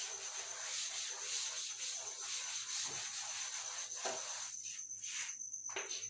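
Writing being rubbed off a board during a physics lesson on current electricity; a close, continuous scrubbing and rubbing for several seconds, breaking into shorter bursts near the end, with no talking.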